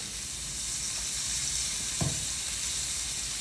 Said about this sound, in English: So once again, we're just gonna sear this on both sides for about 5 minutes per side.